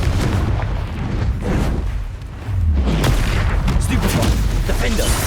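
Confringo fire spells in the Hogwarts Legacy video game, a run of booming blasts and crackling impacts over continuous battle noise, with shouted spell names over the top.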